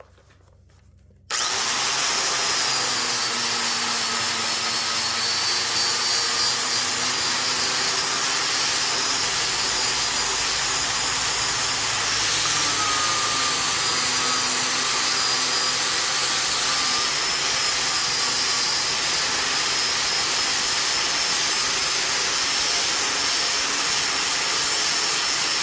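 A 4.5 inch angle grinder with a stripping wheel, 7/8 arbor and 11,000 RPM max, stripping mill scale from steel. It spins up abruptly and then holds a loud, steady, high-pitched whine with a harsh grinding rasp, close and continuous.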